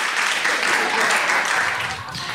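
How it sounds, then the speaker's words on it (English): A comedy club crowd applauds for an audience member named Thomas during a stand-up set, a dense, loud burst of clapping that holds steady and then begins to thin out near the end. "How about an applause for Thomas, everybody?"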